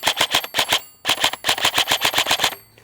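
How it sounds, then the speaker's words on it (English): Rapid bursts of shots from an EMG Daniel Defense DDMK18 airsoft rifle, fired by feathering the trigger: quick clusters of sharp snappy cracks in short groups, close and loud, with no talking. "how snappy and how quick you can get shots off just by feathering"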